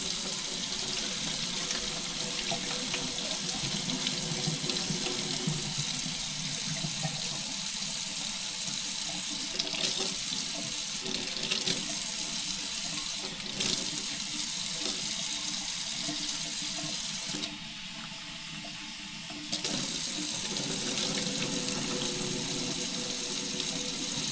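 Fresh mulberries are washed under a kitchen tap, the water running in a loud, constant close rush with small splashing shifts as hands move the fruit, briefly quieting once before resuming.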